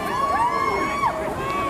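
A street protest crowd cheers and yells, with one voice giving a long rising and falling whoop over general crowd noise, heard briefly and at a moderate distance.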